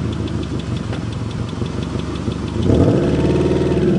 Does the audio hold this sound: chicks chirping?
no